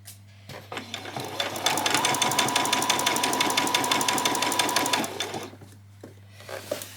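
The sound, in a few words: sewing machine stitching a ruffle seam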